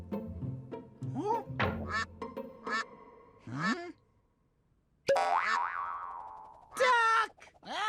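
A cartoon duck quacking in a toddler animation, several springy, boing-like quacks over bouncy music, then two longer sliding squawks, close and loud.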